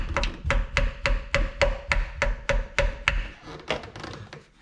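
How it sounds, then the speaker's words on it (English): A hammer strikes a screwdriver through a jet ski oil filter in a steady run of about ten sharp metallic blows, close and loud, then a few scattered knocks. "hammer the screwdriver in the filter to use as leverage, because it won't twist off by hand"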